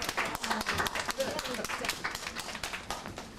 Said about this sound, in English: They're applauding our fundraising efforts